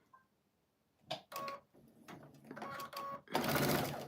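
A sewing machine stitches a quilt seam in short, rapid mechanical bursts. The stitching starts and stops, then ends in a longer, louder run.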